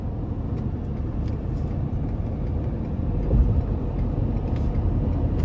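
A 2022 Ford F350 Dually Limited with the 6.7 turbodiesel V8 pulls hard under acceleration, heard from inside the cab as a loud, steady low rumble and drone that swells slightly partway through.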